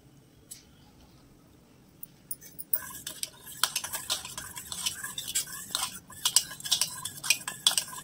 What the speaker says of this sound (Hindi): ये डाला जीरा पाउडर, मिर्च पाउडर, इसको हम अब अच्छे से मिक्स कर देंगे